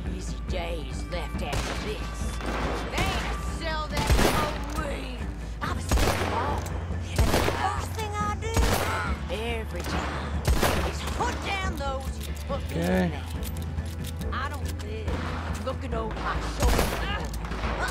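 Gunfire in Red Dead Online, repeated sharp shots at irregular intervals over a steady low rumble, with someone talking between and over the blasts.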